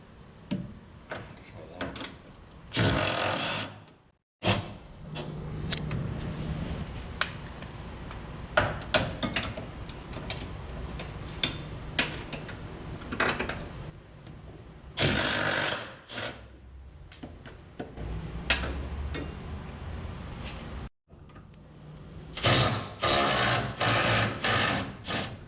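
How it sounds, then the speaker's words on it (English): A ratchet or impact gun loosens 9/16 engine frame mount bolts on a vehicle getting a 289 conversion, in several loud, rattling mechanical bursts between quieter workshop clatter. "you're going to hold the wrench up top and run a ratchet or impact gun underneath"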